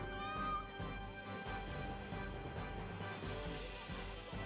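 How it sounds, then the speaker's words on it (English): A cat meows in the video game Assassin's Creed Mirage, heard over a dense, steady bed of game music and ambience that keeps the calls from standing out clearly. "We gotta stop and pet the kitty,"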